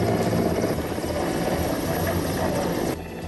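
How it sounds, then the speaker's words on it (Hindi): A Mi-17 helicopter hovers over a flooded, fast-flowing river during a rescue, its rotor and engine making a loud, steady, close throbbing drone that drops slightly at the very end. "का मी-17 हेलीकॉप्टर सैलाब में फंसे इस शख्स का रेस्क्यू करने के लिए मौके पर पहुंच गए"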